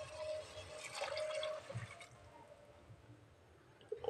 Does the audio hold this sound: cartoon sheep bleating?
no